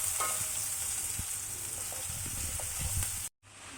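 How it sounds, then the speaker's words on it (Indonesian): Shallots and garlic sautéing in hot oil, a steady close crackling sizzle with scattered pops and stirring that runs on, cuts out briefly, then resumes. "masukkan bawang merah dan bawang putih. Tumis hingga harum dan kecoklatan."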